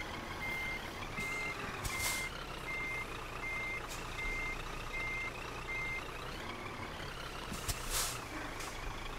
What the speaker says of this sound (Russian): У меня просто фура не хочет ехать назад.